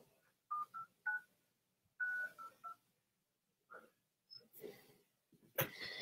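Telephone keypad DTMF tones are dialed into an automated voice message system, a series of short, clear beeps in uneven groups, then a sharp burst at the end with no speech.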